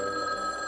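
A telephone rings in a 1989 Garfield cartoon, one short steady electronic trill, loud and close, with no other sound.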